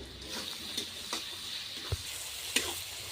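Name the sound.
onions frying in oil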